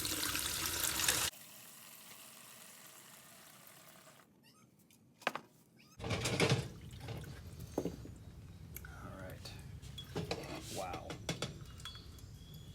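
Liquid pours steadily out of a Solex 28 PICT 1 carburetor during a rebuild, with rushing splashes broken by clinks and bumps of parts in a container, heard up close.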